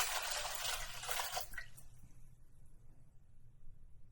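Water pours into a mixing bowl for bread dough, a bright, close, rushing splash that runs for about a second and a half and then stops abruptly, leaving a faint quiet room.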